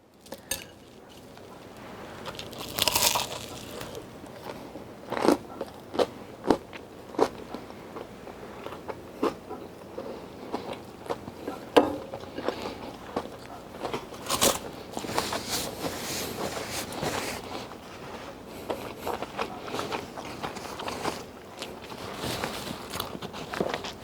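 Biting and chewing an air-fried turkey and cheese melt sandwich on fresh loaf bread, with close crunchy bites and mouth sounds amid faint cutlery and dish clatter, no talking.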